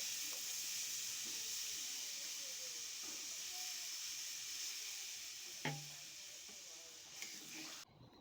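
Water poured into a pan of frying spice paste for a Bengali cabbage kofta curry, with potatoes set to boil: a long, steady hiss that slowly fades, with a couple of brief knocks near the end.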